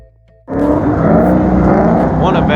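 A race car idling in line for the drag strip at a proving grounds event starts up or revs after a brief quiet moment, then holds a loud, steady rumbling engine drone nearby.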